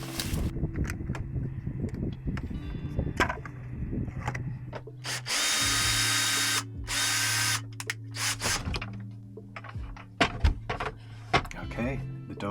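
A power drill whirs in repeated bursts while removing fridge doors aboard a tiny narrowboat, with a long sustained run in the middle, clicks and handling knocks between, and a voice talking at times.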